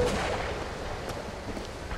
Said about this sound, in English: Who's still firing?